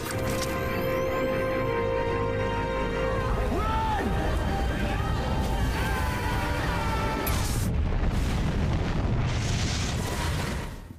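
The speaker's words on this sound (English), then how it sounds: "There's a massive explosion, and the heroic duo barely escapes." A massive explosion in an animated superhero action scene: a dense, sustained roaring rumble that fills the whole stretch, with a fresh burst partway through and debris-like crackle, loud and continuous.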